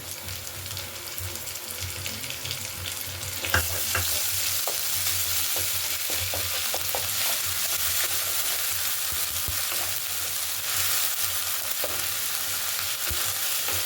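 Ginger garlic paste hitting browned onions in hot oil: a quieter sizzle swells into loud, continuous frying after a few seconds, with stirring scrapes and clicks close up and no talking.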